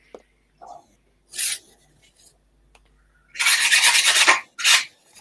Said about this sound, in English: Gary, all we can hear is you sanding.